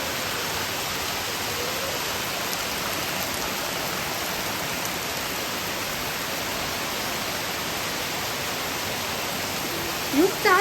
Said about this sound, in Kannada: ಮಳೆ ಹೋಯ್ತಾ ಇದೆಯಲ್ಲ